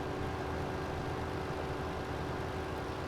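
A GMC pickup truck idles in the Farming Simulator 17 video game on the Sandy Bay map, giving a steady, low, continuous engine rumble with no talk over it.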